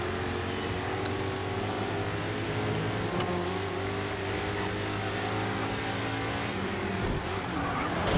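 A Camaro racing in GRID 2, its engine holding a steady, loud drone with layered harmonics throughout, the pitch rising slightly toward the end, with no talk over it.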